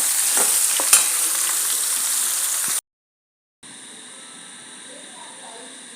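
Sliced raw mango cooks in a pan for mangai thokku with a bright, continuous sizzle and a few stirring scrapes, then cuts off briefly before a softer, steady sizzle resumes.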